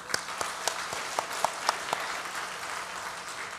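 A small church congregation claps during a Korean Sunday worship service, a handful of sparse, distinct claps spaced out over a few seconds before fading into room ambience.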